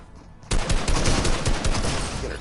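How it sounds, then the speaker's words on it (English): Sustained gunfire from a Fortnite match, a dense burst of rapid overlapping shots that erupts after a brief quiet start and keeps going loud and close. "She'll shoot Oro"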